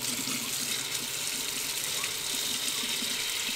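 Water runs steadily from a Wagner Flexio 4000 paint sprayer into a sink, a constant close rushing hiss and splash with no pauses and no voices.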